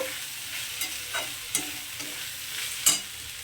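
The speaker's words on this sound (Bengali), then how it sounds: "যে বেগুনটাই ভেজে রেখেছিলাম তো সেই বেগুনটাকেও দিয়ে দিচ্ছি তো এবার এটার সঙ্গে একটু ভালো করে ভেজে নেব" Fried brinjal with green chillies is stirred in a pan with potatoes and fenugreek greens, giving a soft, quiet sizzle broken by a few distinct spatula scrapes, the sharpest near the end, with no talking.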